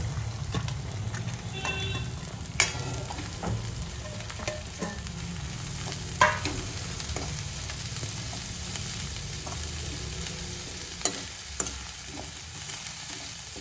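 Green onions frying and being stirred in a pan for a Gujarati tuver totha dish: a steady, fairly quiet sizzle throughout, broken by occasional sharp clicks and scrapes of a utensil against the pan.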